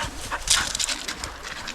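Dogs panting and whimpering softly beside a rushing mountain stream near Telluride, Colorado, under steady broadband water noise, with a few faint bird calls and no talking.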